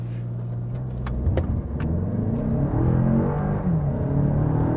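A Lexus RX 500h F-Sport hybrid SUV accelerates, its engine note rising steadily in a close, continuous rumbling drone.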